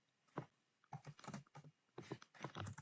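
Close, brisk typing on a computer keyboard in irregular bursts of clicking keystrokes, with short pauses between the runs.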